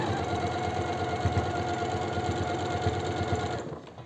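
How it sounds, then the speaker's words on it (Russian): Sewing machine running steadily as it stitches a seam on fleece for a warm home robe, a close, loud, continuous rapid mechanical whir with no talk, stopping just before the end. "настрачиваю шов"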